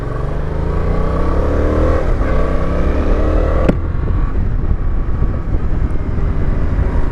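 A 2020 Yamaha Tracer 700 motorcycle's engine and exhaust give a full, steady drone up close, holding a constant loud rumble while passing along the road, with a brief sharp click partway through.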